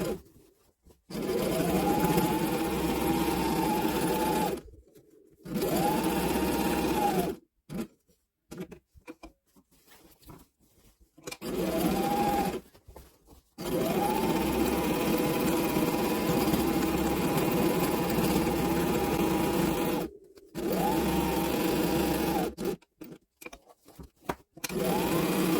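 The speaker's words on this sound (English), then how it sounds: "Backstitch and then sew all around." A sewing machine stitches an apron seam through several fabric layers, running in long steady whirring bursts that speed up and stop, separated by short silent pauses, close and loud with no talking.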